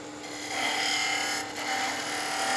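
A skew chisel cuts a long taper on a spinning workpiece on a wood lathe, giving a steady, close, continuous hissing rasp that swells and dips slightly as the cut proceeds.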